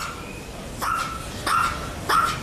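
Dogs at a house bark three times in a slow, evenly spaced series. The barks are moderately distant and sit over a steady background hiss.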